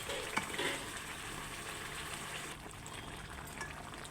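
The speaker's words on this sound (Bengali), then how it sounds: "এই যে সিমের বিচি দিয়ে কষাচ্ছি" Bean seeds sautéing in a pan with masala for a sarpunti fish curry, giving a steady soft frying sizzle with a few faint stirring scrapes near the start, no talking.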